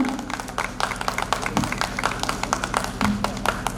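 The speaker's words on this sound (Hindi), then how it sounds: "मैं चाहूंगी तालियों के साथ हम स्वागत करें हमारे सभी वक्ताओं का" An audience at an inauguration event claps to welcome the speakers, producing steady, fairly close applause with distinct individual claps repeating throughout the short stretch.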